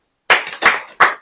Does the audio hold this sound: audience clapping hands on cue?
yes